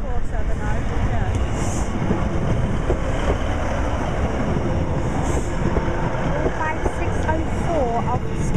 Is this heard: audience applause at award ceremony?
no